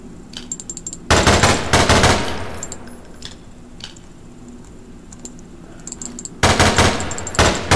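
Rapid automatic weapon fire in a Garry's Mod horror map, loud and close, with a long burst, a quieter spell, then another sustained burst near the end.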